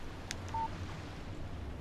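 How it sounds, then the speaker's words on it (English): A phone text-message alert in the video game Alan Wake Remastered: one short, faint electronic beep over a steady hum of background noise. "Text message from Barry."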